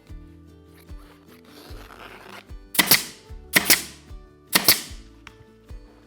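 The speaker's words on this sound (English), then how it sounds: "So just going to put a few staples along the front in the centre to begin with." A staple gun fires three sharp, loud snaps at roughly even intervals while fabric is stapled onto a dining chair, preceded by quieter rustling and handling noises close by.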